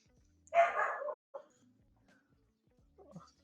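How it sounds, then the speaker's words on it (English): A dog confined in a crate barks for attention, one loud sustained burst followed by a short second bark and a fainter yelp, close by in a quiet room. "he's just gonna keep barking through the whole thing"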